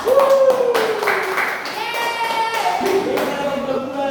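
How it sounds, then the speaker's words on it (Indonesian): Schoolchildren clap their hands in a classroom during a lesson on the water cycle, brief scattered claps mixed with children's voices and a teacher talking over them. "kita tepuk tangan untuk ini semua"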